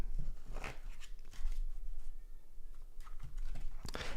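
Tarot cards are shuffled by hand in repeated brisk riffling bursts, crisp papery flutters and taps close to the microphone, several distinct shuffles across a few seconds.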